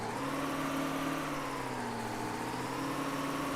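Tractor engines in a farm simulator video game run at a steady idle, a moderate droning hum with sustained tones that drift gently in pitch, heard alone without talk.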